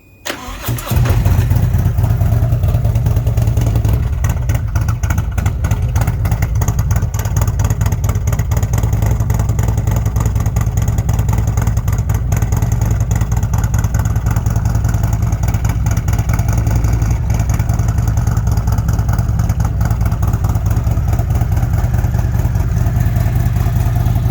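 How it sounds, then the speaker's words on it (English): A 2018 Harley-Davidson CVO Street Glide with a TTS 175 cam and loud performance exhaust runs close by, warming up with a deep, steady throbbing that holds constant for a long stretch without voices. "let the bike warm up a little bit so you can hear the rest of the exhaust on it."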